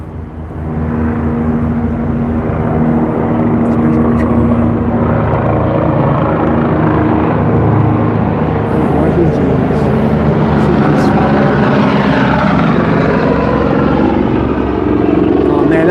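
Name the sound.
medical ICU helicopter flying overhead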